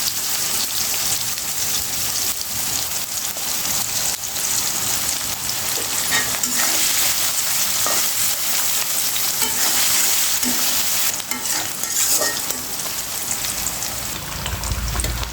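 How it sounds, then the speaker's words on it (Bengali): Dal simmering on a stove gives a steady, dense hiss and crackle like frying, with scattered small pops and bubbling throughout and no voices. "ওই চুলায় কিন্তু আমার রান্না হচ্ছে ডাল।"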